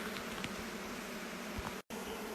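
Honeybees buzzing in a hive on a homestead, a steady, close, dense hum with faint rustling, broken by one brief moment of silence near the end.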